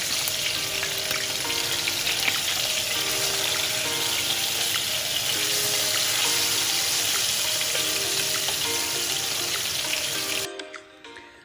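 Katla fish pieces coated in turmeric and salt fry in hot oil with a steady, loud, crackling sizzle that holds throughout, then cuts off abruptly near the end.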